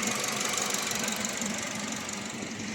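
An overhauled car engine idles steadily and fairly quietly, a continuous close hum with a light rhythmic tick and no talk over it.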